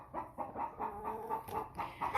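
An old American Bresse hen weighing just over seven pounds clucks close by in a steady run of short, repeated notes, with no talking.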